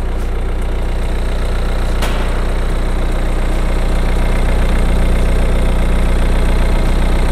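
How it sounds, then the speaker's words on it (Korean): A BMW 5 Series G30 520d xDrive diesel idles steadily with its engine bay open, a constant close, loud rumble without variation and no talk, with one brief tick partway through. "엔진 소리 일정합니다"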